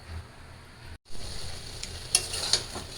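Vegetables simmer and sizzle in a pot on a home kitchen stove, giving off a soft, steady hiss. A brief gap interrupts it, then it resumes with a few clinks of a stirring utensil, close by.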